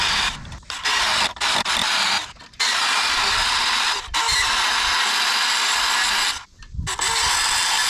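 A loud power tool cuts off the excess ends of bolts on a DIY overland trailer spare tire carrier, a harsh sustained grinding whine in several long passes broken by short pauses, close and alone.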